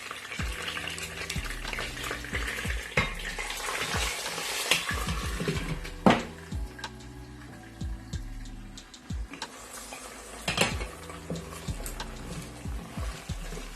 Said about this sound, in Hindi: अब मैं इसी ऑयल में जो हमने प्याज ग्राइंड की थी, पीसी हुई थी, ये डाल दूँगी।